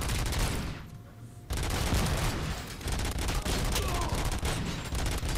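An enemy machine gun in a video game bank heist fires in dense, continuous bursts, loud and close, with a brief lull before the rapid rattling resumes.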